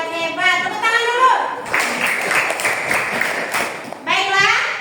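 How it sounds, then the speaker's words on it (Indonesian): Children applaud in a classroom, a dense burst of hand clapping lasting a couple of seconds between stretches of young voices chanting. "Tepuk tangan dulu."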